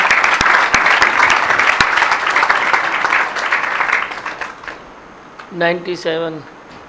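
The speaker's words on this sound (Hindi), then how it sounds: "तालियां बजाओ भाई" Loud, steady applause from a gathered audience celebrating a student's exam result fills several seconds, thinning out as a single voice speaks briefly at the end.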